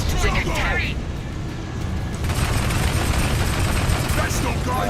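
Rapid gunfire from a fighter craft shooting down turrets in the video game Warhammer 40,000: Dakka Squadron, a dense, steady rattle of automatic fire with engine roar, loud throughout, with a voice speaking over it.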